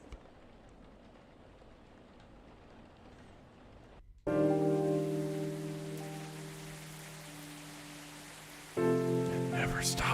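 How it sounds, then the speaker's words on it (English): Steady, soft rainfall pattering in the Coffee Talk video game, heard alone at first, then continuing under louder sustained musical chords that swell twice. "It never stops raining."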